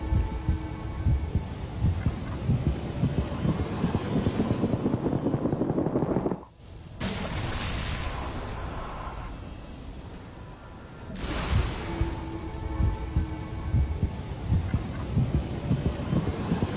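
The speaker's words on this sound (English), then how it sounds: "a couple seconds after the heartbeat stops, that's when I'm supposed to hit it, or like a couple seconds after the heartbeat stops, or when the heartbeat's really fast" Heartbeat sound effect from the DC Universe Online video game, steady low throbbing pulses that run through most of the stretch, briefly cut out, then return at a similar pace.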